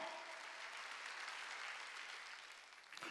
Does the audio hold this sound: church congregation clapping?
yes